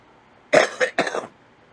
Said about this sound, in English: I may end up coughing.